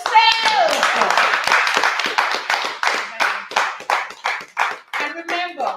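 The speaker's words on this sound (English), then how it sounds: "Clap for yourself." Audience clapping at a children's book launch, a burst of hand claps from a small crowd, close and lively, with voices mixed in and applause thinning toward the end.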